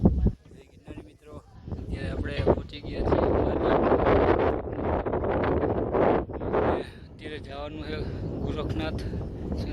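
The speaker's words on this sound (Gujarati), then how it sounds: "વાદળા જઈ રહ્યા છે અને પવન પણ તો ફૂલ છે" Strong wind buffets the microphone on Girnar mountain near the Datt peak at sunrise, a loud rushing roar that persists while a person talks over it.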